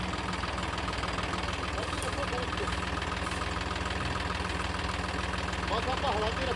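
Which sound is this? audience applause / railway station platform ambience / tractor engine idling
tractor engine idling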